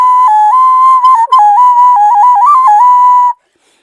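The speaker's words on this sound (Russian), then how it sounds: "это другая немножко свистулька" Folk clay whistle toy, painted in a traditional style, blown alone in one sustained piping tone that steps between a few nearby pitches, then breaks off abruptly.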